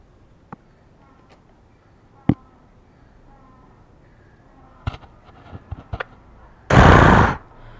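A voice imitates a gunshot, giving a few sharp mouth-made pops followed by a loud, breathy burst of noise near the end.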